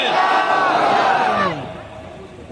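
Large crowd chanting a Nara-e Takbir battle cry in loud unison, voices swelling together for about a second and a half before dropping off into quieter murmuring.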